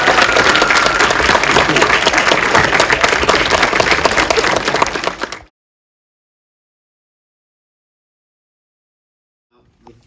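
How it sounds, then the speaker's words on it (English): A live audience applauds after a Q&A session with author Michael Morpurgo, a dense, loud burst of clapping lasting about five seconds before cutting off abruptly into silence. "Can we give Michael a round of applause?"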